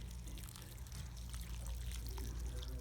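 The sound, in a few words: pouring water onto newly planted pansies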